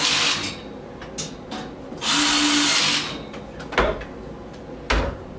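Power drill driving a screw while a bathroom storage rack is assembled, a few short whirring bursts with one longer run of about a second, plus light knocks and handling noises between them.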